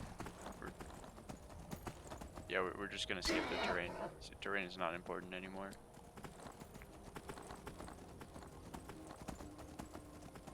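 Horse hooves clip-clopping at a gallop in the Skyrim video game, a rapid rhythmic thudding with a brief whinny, heard softly beneath someone talking.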